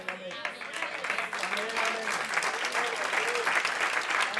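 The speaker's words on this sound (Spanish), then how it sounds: "Ese aplauso para el Señor" A crowd breaks into sustained applause, dense and steady throughout, with a few voices calling out over the clapping.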